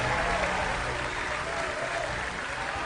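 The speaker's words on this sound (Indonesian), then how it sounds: "Beri tepuk tangan yang mulia untuk Bapak Prabowo Subianto." An audience at a political campaign declaration event applauds Prabowo Subianto with a steady, dense wash of clapping that holds at an even level throughout, with no clear speech on top.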